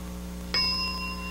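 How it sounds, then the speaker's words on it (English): A game show bell rings once with a bright, clear ding that sustains and slowly fades over a steady background hum, with no talking. "And start describing when the bell sounds."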